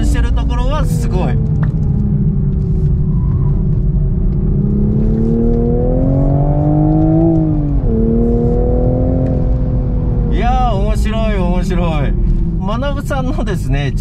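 A manual Toyota GR Supra with a 3-litre engine drives on a circuit, its engine rising and falling through revs as it accelerates and shifts, heard close under someone talking over much of it.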